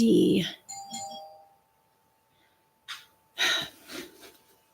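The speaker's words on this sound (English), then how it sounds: "someone's ringing my doorbell." A doorbell chimes, its steady ringing tone lingering for several seconds, with breathy gasps and rustling nearby before and after.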